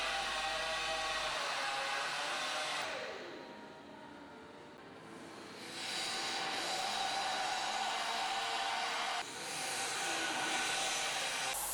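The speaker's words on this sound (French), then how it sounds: "Remplir la partie chanfreinée avec la baguette à souder." Hot air plastic welder blowing steadily while melting a welding rod into a chamfered plastic repair, a loud continuous roar that dips briefly partway through and then resumes, with no voices.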